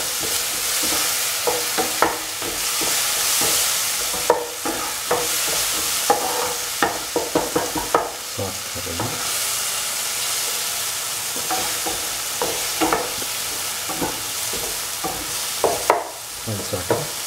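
Bottle gourd and tomato sauté in a hot pan, frying with a steady sizzle while a utensil stirs and scrapes in repeated clatters close up, with no talking.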